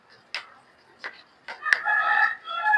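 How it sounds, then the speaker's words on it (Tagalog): A rooster crows nearby in a home kitchen setting, a few short calls leading into a long drawn-out crow, clear and fairly loud with no talk over it. "Ising na yung mga manok."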